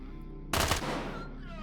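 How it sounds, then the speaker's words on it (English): A flashbang grenade in the game Quasimorph goes off in a single sharp, loud burst that tails into a short hissing decay over a steady low background hum. "Just a little flashbang."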